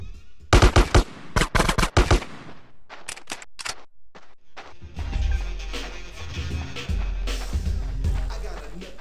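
Sharp, loud gunshots crack out in quick clusters in GTA San Andreas, two volleys separated by short gaps, before giving way to a low rumbling bed of sound.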